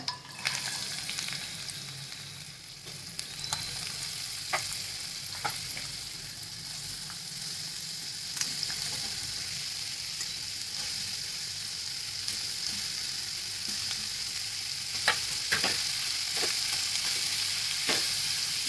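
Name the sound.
onion frying in hot oil for onion chutney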